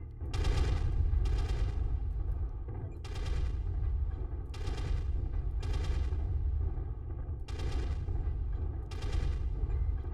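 A mech's weapons fire in bursts in the video game Vapor Eagle 2, about six short rattling volleys over a constant low engine rumble, loud and close.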